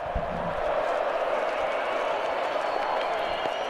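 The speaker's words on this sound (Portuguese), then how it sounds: "aí recebendo os aplausos do público aqui no Mineirão, em Belo Horizonte" A stadium crowd at the Mineirão in Belo Horizonte applauding Ronaldinho at a friendly football match, a steady broad wash of clapping and crowd noise throughout with a voice over it.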